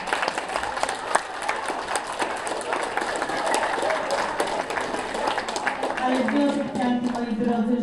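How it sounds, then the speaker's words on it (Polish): Classroom audience applauding at a school Safer Internet event, a dense patter of many hands sustained for several seconds, with voices mixing in toward the end. "Duże brawa."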